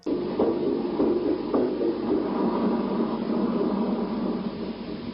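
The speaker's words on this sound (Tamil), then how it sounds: "செகண்ட் ரெக்கார்டிங் ஒரு ஹார்ட் பீட் எஃபெக்டை க்ரியேட் பண்ணும்" Muffled, throbbing pulses like a heartbeat under a constant wash of static noise, muted and continuous throughout.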